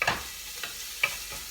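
Garlic sizzles in a pan while being stirred, a soft, steady frying hiss punctuated by several distinct scraping strokes of a utensil at irregular intervals.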